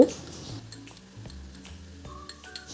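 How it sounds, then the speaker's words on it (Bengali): A spoon stirs cucumber curry sprinkled with dry gram flour in a metal pan, making faint, irregular clinks and scrapes against the pan at close range. "বেসনটা দিয়ে কিন্তু আমি তরকারিটা খুব ভালো করে নাড়বো।"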